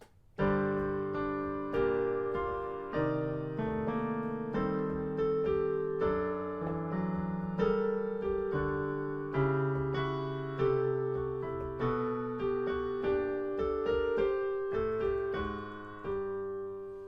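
Five interwoven melodic lines played together on an instrument, sustained notes overlapping and moving independently in steady, flowing polyphonic counterpoint.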